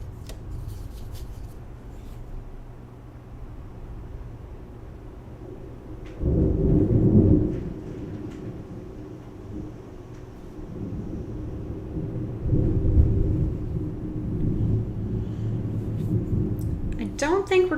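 Thunder from a lightning storm rolls in as deep, low rumbles. One swell comes early, and a longer, drawn-out rumble builds later over a steady background murmur.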